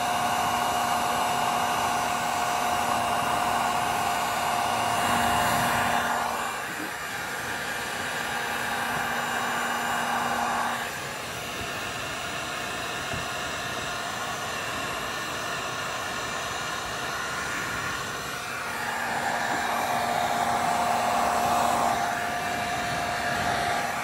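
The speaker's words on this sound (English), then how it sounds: "Now we're gonna use our heat gun." A heat gun runs continuously while warming heated hand grips being installed on a CFMOTO motorcycle, a steady close blowing roar that dips in level partway through and then rises again.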